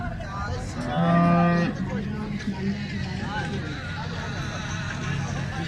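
A large red-and-white cow gives a loud, drawn-out moo close by at a livestock market, over a steady murmur of people talking nearby.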